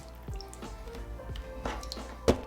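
Liquid poured over a Chromebook keyboard spills and drips, with several soft wet splats and drips spread across the moment, then a sharper splash near the end as it runs onto the floor.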